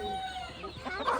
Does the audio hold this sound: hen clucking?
yes